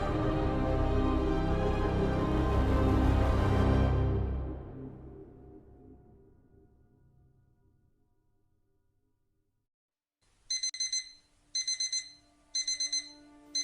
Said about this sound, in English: Opening his eyes to a familiar blaring sound, Void quickly reached his arm out and hit the alarm clock